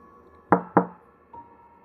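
Two sharp knocks on a door in quick succession, followed by a softer third knock a moment later, set in a tense horror story.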